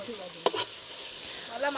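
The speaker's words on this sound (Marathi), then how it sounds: "आपला स्पेशल जो मसाला आहे तो टाकलेला आहे. तो तेलात भाजून घेऊया." A special spice masala roasts in hot oil for a village-style mutton dish, giving a soft steady sizzle close by, broken by a couple of brief stirring clinks and scrapes. No one speaks.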